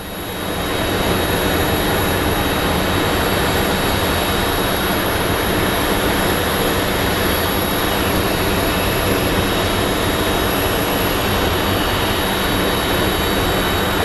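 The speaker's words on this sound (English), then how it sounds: "Flight coming in from El Paso." Airplane arriving from El Paso at Phoenix Sky Harbor, a loud sustained jet roar with rushing broadband noise that holds steady throughout, close and uninterrupted.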